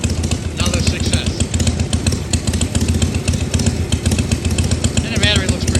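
A 1978 Harley-Davidson FXS Lowrider Shovelhead engine running after kick-starting, a loud, steady, close-up rumbling with rapid mechanical clatter, continuous throughout.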